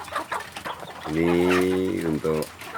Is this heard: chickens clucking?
yes